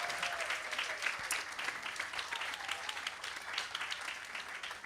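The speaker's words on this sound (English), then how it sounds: "So let's give a round of applause." A room full of people applauds at a kindergarten step-up ceremony, a steady dense clatter of clapping with a few voices calling out over it, holding an even level throughout.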